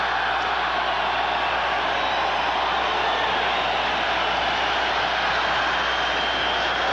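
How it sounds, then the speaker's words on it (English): A deep, continuous roar from a football crowd in the cavernous Cleveland Stadium during a 1988 AFC Wild Card game, Oilers against Browns, holding steady and loud throughout with no breaks. "You get a crowd noise in Cleveland Stadium almost unlike any place else."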